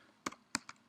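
Three crisp keystrokes clacking on a computer keyboard in quick succession, close and isolated against a quiet background.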